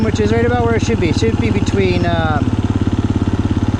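A 2022 KTM 350 EXCF motorcycle engine idles close by with a steady, rapid low thumping pulse, while someone talks over it for the first half.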